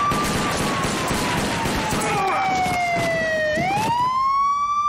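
An ambulance siren is switched on during a tense scene: a loud wailing tone that drops slowly, then sweeps back up, rising over a busy, noisy background.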